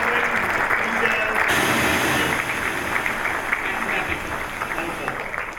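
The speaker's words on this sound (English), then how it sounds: "let's show them a round of applause and a lot of respect" A conference audience applauds panelists at a brand festival, a dense, steady wash of clapping that fills the room for several seconds, with voices mixed in beneath it.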